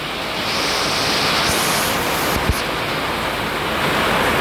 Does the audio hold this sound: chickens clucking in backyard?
no